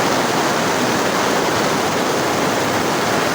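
Downpour of heavy rain, a constant loud rushing hiss filling the space without pause or speech.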